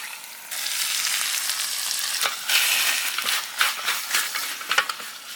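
Fatty beef rib meat frying for Turkish tantuni, a steady close sizzle with scraping and stirring bursts on a hot pan, no voices.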